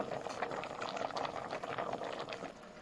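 Sweet bamboo shoots boiling in a pot of water, a steady bubbling simmer heard close and fairly quiet, continuous throughout without any talking.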